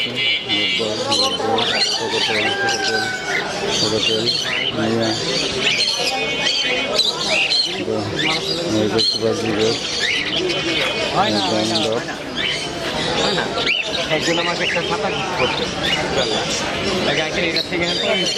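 Dozens of lovebirds and cockatiels at the Mirpur bird market chirp and squawk nonstop in a dense, shrill chorus, with people talking throughout.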